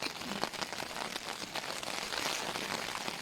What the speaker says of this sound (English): rain's coming in.